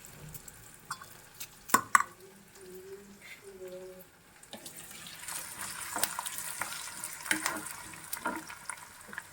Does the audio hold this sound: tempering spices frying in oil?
yes